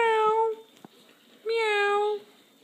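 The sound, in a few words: child imitating a cat's meow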